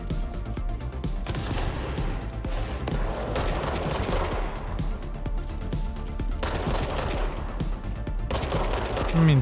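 In the video game Control, dense, rapid gunfire rattles in bursts, loud and close, with machine-gun volleys running almost without pause.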